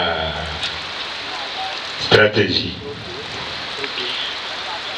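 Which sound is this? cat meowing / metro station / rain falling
rain falling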